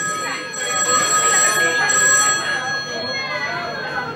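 A telephone rings on stage during a live comedy show at a bar, its bright repeating tone carrying over a noisy audience and murmuring voices.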